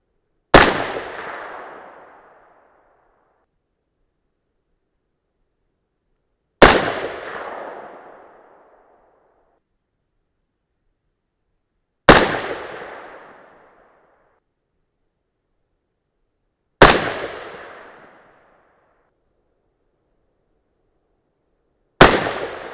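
.308 Win AR-10 rifle firing 167 grain Lapua Scenar loads over Reloader 15 powder, five single sharp shots spaced about five seconds apart, each a loud crack trailing off into a short echo, with silence between.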